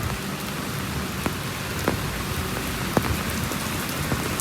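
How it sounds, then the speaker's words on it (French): Steady rain falls outdoors, a dense, even hiss with scattered sharper drops and taps landing close by, continuous and moderately loud, with no voices. "Il pleut."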